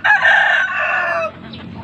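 A chicken crows loudly and close by in a single drawn-out call lasting over a second, followed by a softer trailing cluck.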